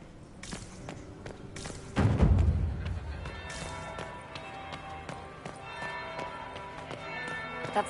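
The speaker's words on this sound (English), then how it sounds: "That's the bell. I should get back to the ballroom." A bell rings in Dragon Age: Inquisition, inside a ballroom setting, with one loud deep strike that leaves a long ringing tail over soft footsteps and game ambience.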